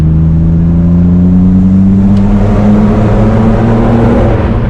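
A 1997 BMW M3 engine revs hard at full throttle after a downshift, climbing steadily in pitch to about 5,000 RPM, loud and close, holding high throttle throughout.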